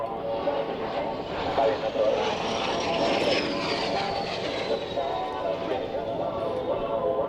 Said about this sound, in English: And now the flyby in front of us.